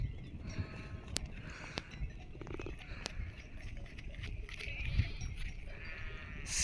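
Sheep bleat intermittently amid a noisy outdoor flock, with shuffling and rustling throughout and no one talking.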